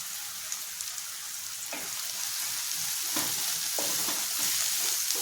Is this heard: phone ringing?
no